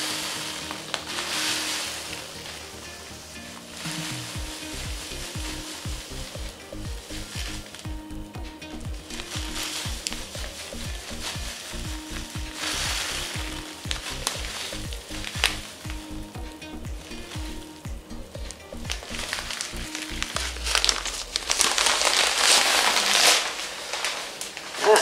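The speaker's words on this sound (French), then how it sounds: "Là, je vais mettre 1 kg de graines dans un premier temps." About a kilogram of mixed birdseed is poured and stirred for bird seed balls, giving a steady dry rustling, pattering hiss close by with rhythmic scraping pulses, no talking.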